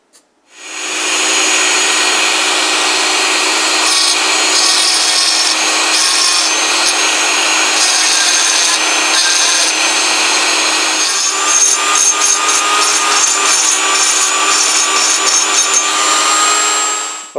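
A tool grinding material off the heavy side of a grinding wheel to balance it, a loud continuous abrasive whine and rasp with steady tones, running without a break close to the microphone.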